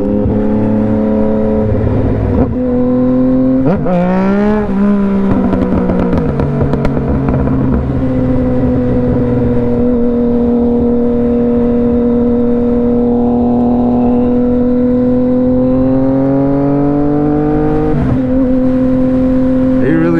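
On a city street in Murfreesboro, a car revs hard and accelerates through its gears with rising and falling engine pitch, loud and close, while a brief voice interjects over the roar.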